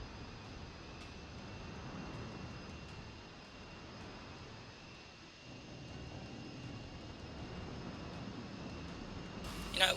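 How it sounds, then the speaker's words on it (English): Warship engines hum in World of Warships, including the North Carolina battleship: a faint, steady low drone with light mechanical texture, continuous throughout without voices. "all of the small, subtle engine sounds that these ships make"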